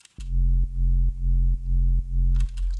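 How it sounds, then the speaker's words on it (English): Sublab sub bass on its stock Low Harmonics preset, heard alone as a deep sustained tone swelling in repeated even pulses, loud and dry, with faint clicks at the start and end. "Here's what the sub bass sounds like alone."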